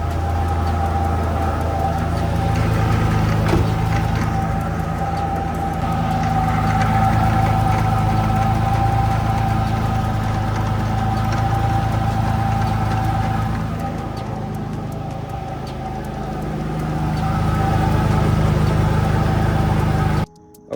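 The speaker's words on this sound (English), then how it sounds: "It's still making that drivetrain whine or whatever that noise is" A Nissan 350z engine runs steadily with a persistent drivetrain whine, a continuous loud drone with a tonal hum throughout and a brief dip near the end, no talking.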